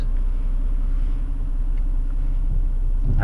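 A car creeps slowly backward in reverse during a driving lesson, heard from inside as a steady, loud low engine rumble with little change, and no one speaking.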